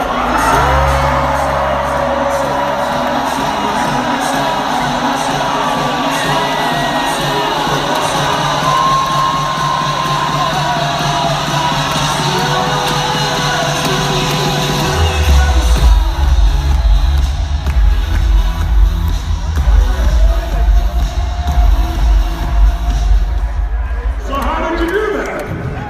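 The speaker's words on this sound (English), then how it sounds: "In your chair, create total excitement in your body. Just do it out loud, make noise, make movement" A seminar audience in Toronto shouts, whoops and cheers in total excitement, making a dense, loud and sustained crowd roar with a low rumble of stamping or movement that swells in the second half.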